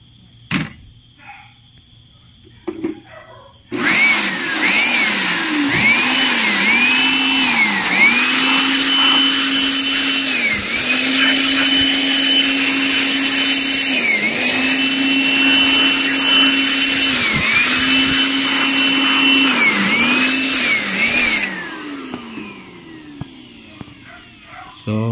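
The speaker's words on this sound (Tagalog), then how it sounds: "kunin ko na yung blower natin" Electric air blower cleaning the mainboard of a Konzert AV-502 amplifier: a loud, steady motor whine that starts abruptly, runs about seventeen seconds with brief dips in pitch, then cuts off, close and alone.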